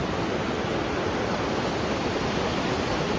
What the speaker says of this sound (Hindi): ये है वो रिवर जहाँ से ठंडा पानी आ रहा